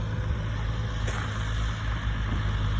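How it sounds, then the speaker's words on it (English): A water truck is moved, its engine rumbling low and steady at close range with a brief sharp burst of hiss partway through, and no talk. "Moving a water truck."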